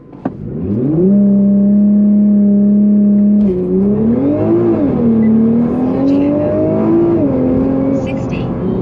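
A 600+hp Nissan GTR R35 launches hard and accelerates with a loud, sustained engine roar, its pitch climbing through several gear changes over roughly eight seconds, close and dominant.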